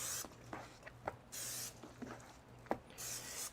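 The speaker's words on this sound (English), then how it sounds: "Just going to spray up both sides." Olive oil is sprayed onto both sides of chicken wings being prepared for smoked pomegranate wings. Three short, close hissing bursts come from the sprayer, separated by faint rubbing and handling clicks.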